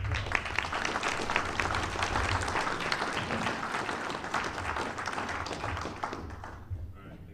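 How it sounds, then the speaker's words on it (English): Applause from an audience at a trophy presentation and scholarship awards ceremony, a steady dense round of clapping with a low murmur of voices underneath, fading out near the end. "Let's give him one more round of applause"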